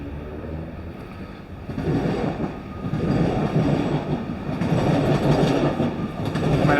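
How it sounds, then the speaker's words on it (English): A train rumbles past nearby in the cycling game Zwift, its steady roar building and holding loud with a rhythmic clatter of wheels on the rails. "Here comes the train."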